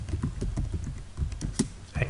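Computer keyboard typing while working in AutoCAD, a quick irregular run of close, crisp key clicks lasting about two seconds with no speech over it.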